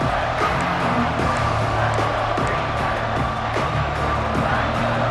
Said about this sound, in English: Here comes this home crowd as the defense tries to get off the field on third down.